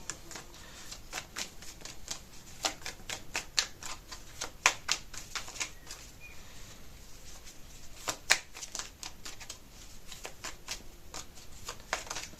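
A deck of cards is shuffled and riffled in bursts of rapid fluttering snaps, close and crisp, with short pauses between bursts during a card-reading session.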